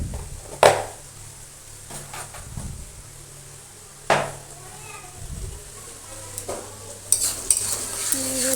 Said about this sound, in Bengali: লবণ আর হলুদটাকে আমি একটু ভালো করে ভেজে নিব আবারও।